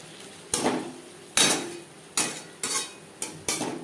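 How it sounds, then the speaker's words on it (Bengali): A spoon clatters against a pan while spices for a tilapia fish curry are stirred, giving five sharp metallic scrapes and knocks at a steady, unhurried pace, close and fairly loud. "নাড়াচাড়া করব আর দিয়ে দেবো সামান্য পরিমাণে জল মশলা কষাবার সুবিধার জন্য"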